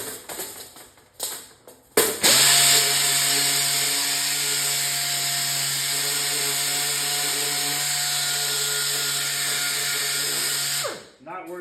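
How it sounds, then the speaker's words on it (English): A power sander smooths a metal plate for an arcade cabinet restoration, with a steady, loud whine that runs unbroken for about nine seconds after a short start-up and then winds down. There is no talk over it. "Now I'm going to switch to my sander here"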